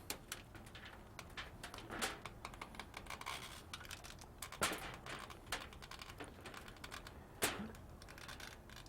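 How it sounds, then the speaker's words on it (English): Aluminium foil is folded and twisted around ribs being wrapped with a butter bath, making a series of sharp, close crinkles and crackles in irregular bursts, with louder crunches near the middle and end. "fold over, twist, and lay the foil down"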